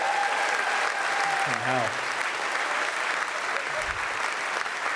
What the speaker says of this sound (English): let's give her a round of applause up the top there